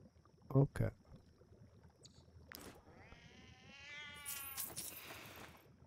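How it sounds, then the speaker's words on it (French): A cat meows in a game scene, a drawn-out cry with rising and falling pitch that builds toward the end, after a few sharp thuds earlier on. "Oh, le chat, il va se la boucler un peu."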